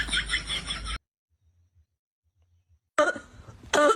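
A person coughs in two bursts, one at the start and one near the end, separated by about two seconds of near silence; the coughs are close and fairly loud.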